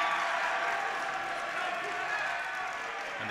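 A boys' high school basketball crowd cheers and applauds in a gym, a broad steady roar of clapping and shouting that holds at even loudness throughout.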